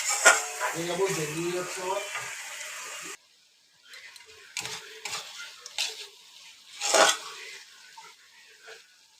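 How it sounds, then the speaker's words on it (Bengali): Fried potatoes going into sizzling cooking masala for a jackfruit curry, with a steady frying hiss at first, then quieter scattered clinks and scrapes of stirring in the pan. "কষিয়ে এবার যেই আলুটা আমি ভেজে রেখেছিলাম এই আলুটা আমি দিয়ে দিচ্ছি।"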